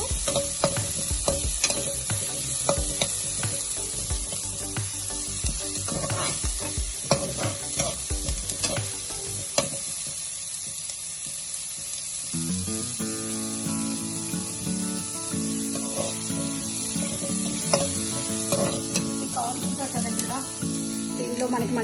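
Crispy corn dusted with corn flour and pepper frying in a pan until brown, a steady sizzle with stirring scrapes and small crackles throughout, close and fairly loud, with no one talking over it.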